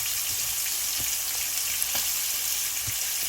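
Spices frying for a fish curry in a pan of sautéed onion, ginger and garlic, a continuous close sizzle with occasional soft pops and taps of stirring; no one speaks.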